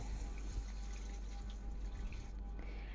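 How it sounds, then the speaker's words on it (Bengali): A tie-dyed bedsheet dyed with vat colour is rinsed and squeezed in water, giving a continuous splashing, sloshing wash at close range, steady and alone. "পানিতে ভালোভাবে কুচলিয়ে ধুয়ে নেব যতক্ষণ পর্যন্ত উপরের আলগা রঙগুলো উঠে যাচ্ছে"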